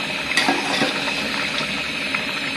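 Water for yakhni pulao boiling in a pot, a close, steady bubbling and churning with a few small pops, loud and continuous with no talk.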